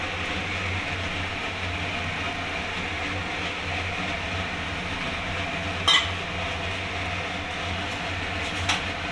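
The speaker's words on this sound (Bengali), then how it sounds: "ভালো করে নাড়িয়ে নেব গোবিন্দভোগ চালটাকে।" Gobindobhog rice being stirred in a pan for lemon pulao, a steady soft grainy rustle with a couple of sharp metallic taps from the utensil near the end.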